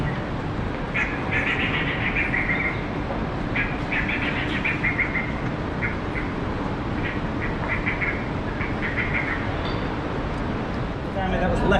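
Birdsong recorded on a Sydney sightseeing walk, with repeated chirps and quacking calls over a steady outdoor hum and murmured voices, fairly close and continuous.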